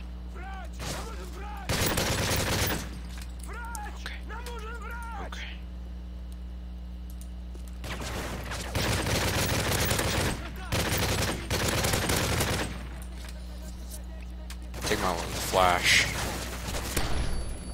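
Bursts of automatic gunfire from the Modern Warfare 3 Survival Mode video game come in several loud volleys separated by quieter stretches, while a player speaks quietly between them.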